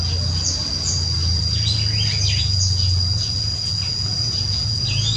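Repeated short, high chirps from tepus babblers inside an aviary come in quick irregular runs over a steady insect drone and low rumbling background.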